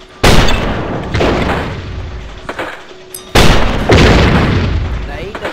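Tank cannon fire and explosions in a Roblox battle game, two loud booming blasts with rumbling tails about three seconds apart, close and heavy, with a voice talking alongside.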